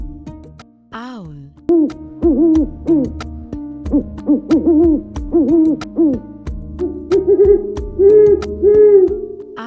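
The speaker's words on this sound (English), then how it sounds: "Owl." Owl hooting in a children's wild animal lesson, a series of repeated hoots with tonal, wavering calls running steadily throughout, loud and close.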